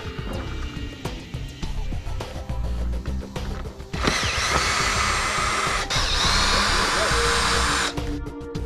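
A power drill removes screws beneath the rear hatch of a 2010 Mini Cooper, whirring in two sustained, loud, close bursts after a stretch of lighter handling noise.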